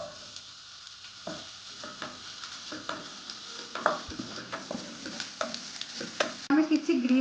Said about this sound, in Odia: ଏବେ ଆମେ ପିଆଜ ଦେଇଦେବା।